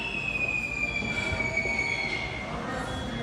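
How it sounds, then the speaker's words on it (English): A whistling firework shrieks inside a Tesla Cybertruck at a hotel lobby, a steady high-pitched whistle that slowly falls in pitch over a few seconds, heard continuously at a distance with background noise. "the classic whistling noise of a firework"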